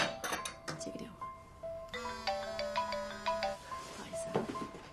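A mobile phone ringtone plays a short melodic tune mid-conversation, clear and close, with voices speaking around it.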